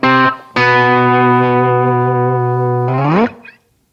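Electric guitar driven through a DigiTech Bad Monkey tube overdrive into a Stulce amp and a mic'd Marshall 2x12 cabinet: a short stab, then one sustained, harmonically rich overdriven chord ringing loud for about three seconds before a quick bend and cutoff.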